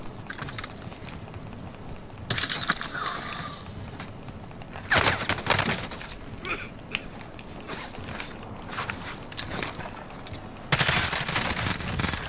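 Gunfire in the battle royale shooter Warzone, with repeated bursts and volleys that break out in loud clusters around the middle and end, mixed with clattering mechanical game sounds and ambient noise throughout.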